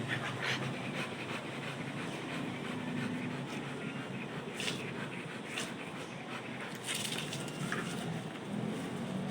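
A dog panting steadily and hard during a training session, continuous rapid breaths close by with a few brief sharp sounds layered over the noise.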